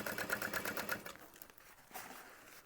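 A sewing machine stitches in a quick, even burst of mechanical clatter as it topstitches through a bag seam, then stops, leaving faint handling noise.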